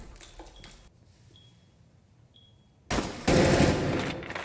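A loud, sudden burst of video game gunfire breaks in after a quiet stretch with a few faint electronic beeps, then rattles on at close range to the end.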